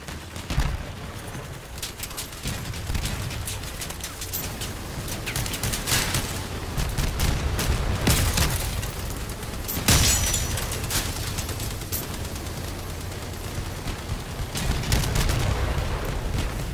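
Dense, sustained machine gun fire from a machine-gun build in the Crossout vehicle combat game, bursts rolling continuously over about seventeen seconds with heavier peaks, loud and close, no talking.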